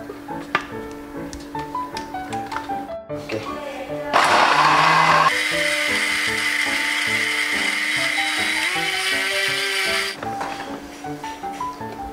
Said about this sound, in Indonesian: langsung di blender